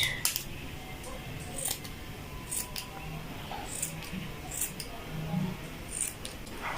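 Sharp metal scissors snip yarn to trim and shape a pom-pom for a machine-knitted scarf: a handful of quiet, crisp cuts spaced irregularly over a soft room background, close by.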